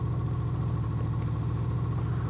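Honda VFR 800 2015 motorcycle engine running at low revs, a steady loud idle with a low throbbing pulse and a mechanical clatter, heard up close with no other sounds.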